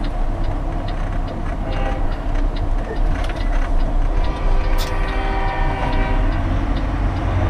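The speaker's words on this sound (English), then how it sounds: "Well, I guess we're gonna have to wait for that train." A freight train rumbles past close by at Post Falls, Idaho, wheels clattering on the rails with a steady heavy roar, and a horn sounds briefly.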